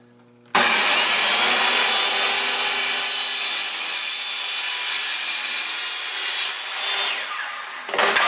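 A handheld saw cuts steadily through wood while building a media blasting cabinet, a loud continuous rasping that runs almost without pause for several seconds before stopping abruptly near the end.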